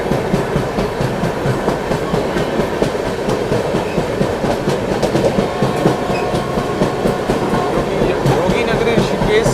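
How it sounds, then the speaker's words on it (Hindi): Duronto express train running at speed while overtaking another express, a loud, steady rumble with continuous clickety-clack of wheels over rail joints heard from inside the coach, with no talk. "एक्सप्रेस को ओवरटेक कर रहे हैं।"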